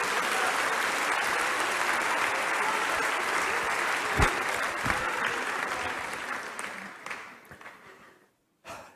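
Sustained applause from a church congregation fills most of the stretch, loud and dense at first, then thinning and fading toward the end, with a short burst after a brief silence.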